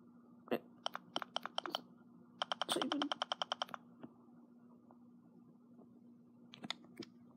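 Bursts of typing on a computer keyboard, quick clusters of close, crisp key clicks separated by short pauses over a low steady hum, with no voices.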